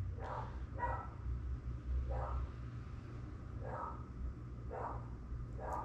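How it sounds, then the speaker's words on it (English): A dog barks in single loud, sharp barks spaced about a second apart, five or six in all, over a steady low background hum. "This dog's going for it."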